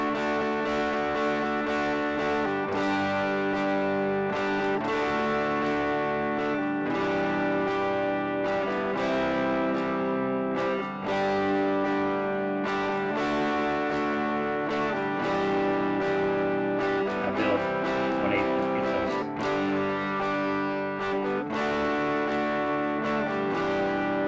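Electric guitar playing the chorus rhythm of the worship song Prepare The Way, building in from the pre-chorus with a steady syncopated strum pattern, loud and continuous within a full band mix, no talking.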